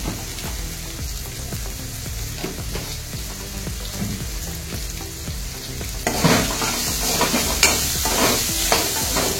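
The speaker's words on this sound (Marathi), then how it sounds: "आता कारले देखील आपण छानपैकी तेलात शिजवून घेऊया." Bitter gourd cooks in oil in a pan with turmeric and salt, giving a steady close sizzle and frying crackle, with stirring scrapes that grow louder and busier in the last few seconds.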